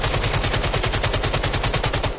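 Rapid automatic gunfire in the VR shooter game Vail VR: a continuous burst of evenly spaced, loud, close shots lasting about two seconds, with no voices.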